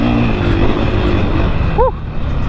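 A 2021 KTM 500 EXC dirt bike runs hard on a motocross track, its engine a loud, continuous close-up drone with a brief rising-falling whine near the end.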